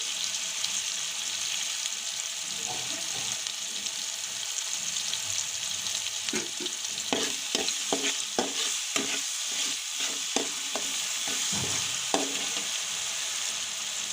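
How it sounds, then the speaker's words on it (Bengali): Coral fish curry stirred and fried in a pan, a steady sizzle with a run of scraping spatula strokes in the middle and toward the end, close and alone. "এখন আবার ভালো করে নেড়ে চেড়ে ভেজে নিব।"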